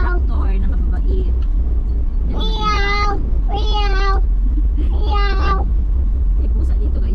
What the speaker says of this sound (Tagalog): May pusa dito guys.